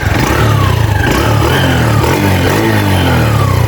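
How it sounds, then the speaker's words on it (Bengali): A 2023 TVS Metro 100cc motorcycle engine runs close and loud, a steady throbbing mid-pitched putter with slight revving and no talk over it. "আমি এখন আপনাদেরকে গাড়িটি স্টার্ট দিয়ে দেখানোর চেষ্টা করতেছি"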